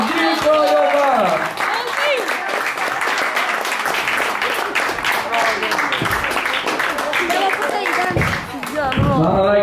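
Crowd applause and cheering for an award winner at an outdoor scooter competition in Vikbolandet, loud and sustained for the whole stretch, with shouts and voices mixed into the clapping.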